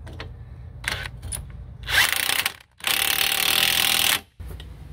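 On a Jeep Cherokee XJ being lifted, a power tool runs nuts onto a rear bracket in several loud bursts, short first and then one long sustained whir, with no talking.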